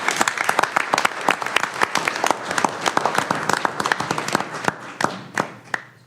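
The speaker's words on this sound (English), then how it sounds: "Please join me in a welcoming round of applause for Gordon Duguid back to Illinois State" Audience applause at an Illinois State University board of trustees meeting welcomes Gordon Duguid back, a dense burst of sharp claps that stays loud and close for about six seconds before thinning toward the end.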